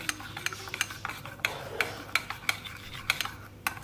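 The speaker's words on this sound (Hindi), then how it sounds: "चम्मच के साथ इसे मैं मिक्स कर लूंगी पहले" A spoon mixes a spiced marinade for homemade crispy chicken broast in a bowl, giving regular light clicks and taps of metal on the dish with soft scraping between strokes, close up and unaccompanied by speech.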